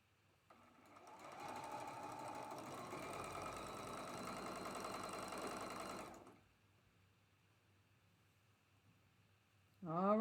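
A sewing machine stitches quilt blocks together in one steady, fairly loud whirring run for several seconds, then stops, leaving quiet room tone before a short burst of voice.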